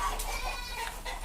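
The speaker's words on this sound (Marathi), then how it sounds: "बघा गावरानी कोंबड्या" Free-range village hens on a dairy farm in Amravati, Vidarbha, cluck faintly a few times over a low, steady farmyard background, with no talking.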